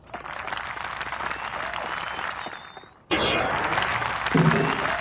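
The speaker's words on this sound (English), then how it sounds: "I like how we have an audience applauding for every single thing we do." Dense applause from a crowd fills the first three seconds, fades briefly, then a second loud burst of clapping follows with some noise mixed in.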